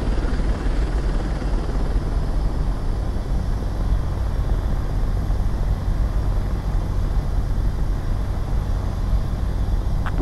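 Jet fighter landing in the combat flight video game Ace Combat 7, a loud, steady engine roar and rumble that holds unbroken throughout, with no talk.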